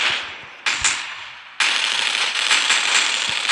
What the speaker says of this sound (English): They're starting to shoot the tank.